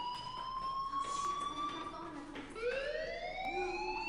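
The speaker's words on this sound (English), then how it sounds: "do you hear that fire alarm? That means you should be outside." A fire alarm wails in the video game Life is Strange, a steady electronic siren-like tone with rising and shifting pitches that continues throughout, moderately loud against a quiet background.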